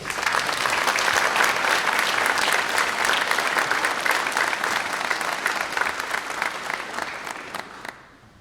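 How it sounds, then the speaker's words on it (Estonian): A large crowd at a men's choir concert applauds loudly and steadily for several seconds, the clapping slowly thinning and fading out at the end. "teeme veel ühe suure aplausi"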